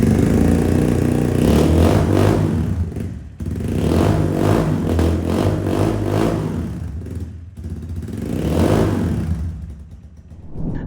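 A KTM replica heavy bike engine is revved repeatedly in a sound test, three loud surges rising and falling with mechanical clatter between them, close to the listener and without speech.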